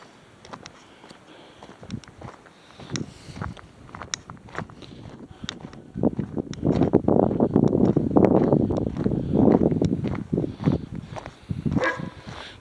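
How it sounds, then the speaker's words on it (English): Strong outdoor wind buffets a microphone on a blustery day near a garden pavilion, building into a loud, sustained roar in the second half, with scattered footsteps and a dog moving about nearby. "Very windy."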